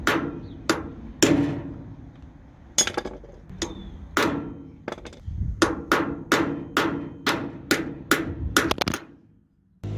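A socket is hammered onto a locking wheel nut, giving a run of sharp metallic hammer strikes, irregular at first and then fast and rhythmic, loud and close with no talk.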